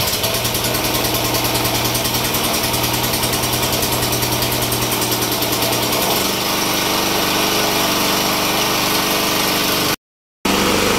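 A 3 kVA Navigator portable generator runs after being restarted, a loud, close, steady engine drone with an even throb, broken by a brief dropout near the end.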